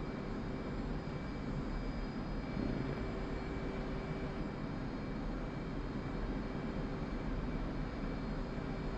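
A jet engine in the DCS flight simulator game spools up as a steady, loud, broadband roar that holds evenly throughout, with no talk over it.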